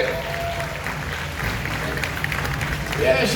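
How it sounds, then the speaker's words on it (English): Audience clapping at the Fear Factor Live show at Universal Studios Florida, moderate and steady applause with crowd murmur underneath, swelling slightly at the end. "give a round of applause, she's fantastic."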